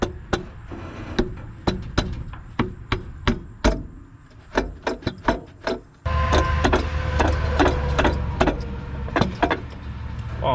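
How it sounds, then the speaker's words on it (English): A hammer bangs on a loosened engine valve cover in a series of sharp, close, irregular metallic knocks, with a steadier mechanical hum in the background. "Probably need a hammer or something to knock this loose."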